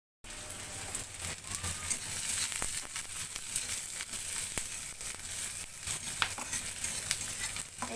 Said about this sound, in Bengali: একটু পেঁয়াজ ভেজে নেই